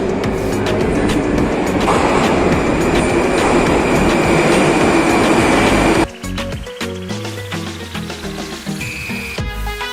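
Loud, steady rumble and rattle of a Tashkent metro train running through the underground, with a sudden drop at six seconds into lower clatter, squeaks and a brief high tone as the car slows.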